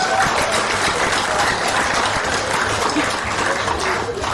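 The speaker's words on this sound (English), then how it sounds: "please, a round of applause for all our speakers tonight." Sustained audience applause at the Samoa Export Awards 2018 evening ceremony, a full, loud and even roll of clapping that carries on without break.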